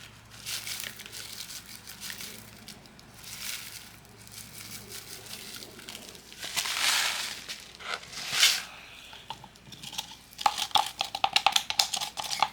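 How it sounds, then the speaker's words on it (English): Rocks are poured and stirred into a skull mold, giving a run of crunchy, crinkling scrapes and rattles in irregular bursts, closer and busier toward the end, with no voice. "So I'm going to add more rocks to fill up the space. And then I'll just mix it in."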